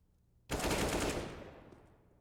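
Gunfire in Counter-Strike: Global Offensive during a pro match, a single loud burst of rapid shots that starts abruptly and decays over a second or so, with no talk over it.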